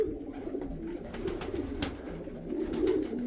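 Male pigeons in a fancier's loft give low, rolling coos, several birds overlapping in a steady murmur with faint flutters and taps behind.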